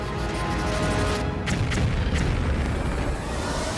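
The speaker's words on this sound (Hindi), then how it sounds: "जब ये बम गिरता है तो ऐसा धमाका होता है जो पूरी बिल्डिंग को गिरा देता है" A 2000-pound bomb dropped on a building explodes in a dense, roaring blast with deep rumbling and crackling bursts that stay loud and sustained throughout, with no voices.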